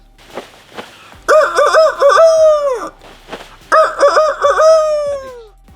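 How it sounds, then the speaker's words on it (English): A rooster crows loudly twice, each long warbling call separated by clucks and scratchy background noises. "And then that dreaded rooster crows"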